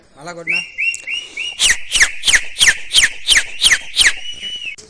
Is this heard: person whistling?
yes